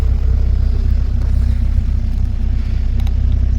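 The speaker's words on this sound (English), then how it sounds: "Cars coming in here." Cars arriving at the Pride of Longbridge classic car rally make a steady, low engine rumble close by, with some outdoor wind noise and no talking.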